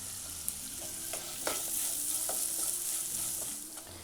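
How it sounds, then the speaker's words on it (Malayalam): Onion sautéing in a pan with a little salt, a steady sizzle of frying under sharp scraping clicks of a spoon stirring at irregular intervals, close and clear with no voices. "നന്നായിട്ടൊന്ന് സോട്ട് ചെയ്തെടുക്കുക."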